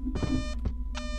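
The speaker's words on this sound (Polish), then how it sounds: "Pika tutaj mocno." Electronic beeps from a ghost detector device in a video game, several sharp repeated tones in quick succession over a steady low hum, loud and close.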